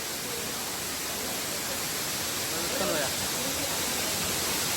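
A waterfall among rocky hills gives off a steady, dense rushing roar that holds at an even level throughout, with a faint murmur rising briefly near the middle.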